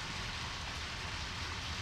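Steady, dense rain pours down continuously in the video game Deadly Premonition Origins, a broad even hiss with no breaks and no voices over it.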